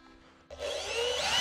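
A power drill drives a wood screw into timber while a shed is being built, starting abruptly after a quiet moment and then whirring and grinding steadily and loudly, rising slightly in strength, with no talking.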